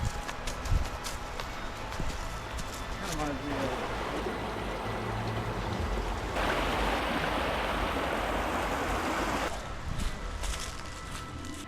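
Water rushes over a forest stream during a winter backpacking crossing in Allegheny National Forest, a steady broadband wash with footsteps and bumps, swelling louder in the middle as the hikers pass close, with talk at times.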